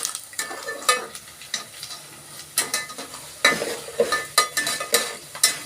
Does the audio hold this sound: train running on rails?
no